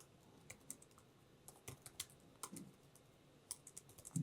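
Keys tapped on a computer keyboard during a workshop, an irregular run of light clicks spread across a few seconds, fairly quiet with a soft room background.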